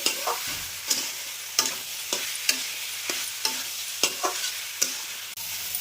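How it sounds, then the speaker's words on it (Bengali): Dal ingredients fry in a pan with a steady sizzle while a spoon scrapes and stirs in regular close strokes, with no voices. "এটাকে নাড়চাড় করে নেব।"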